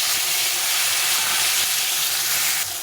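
Two large tomatoes frying in a pan, giving a steady loud sizzle with continuous hiss and faint stirring scrapes, with no voices.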